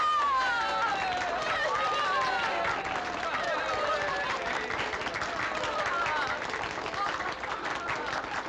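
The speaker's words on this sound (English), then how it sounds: "Here's the one they should clap for." A crowd claps and cheers steadily and loudly for Madame Claudia Micheline, dense applause running throughout while a voice calls out in bursts over it and chatter mixes in.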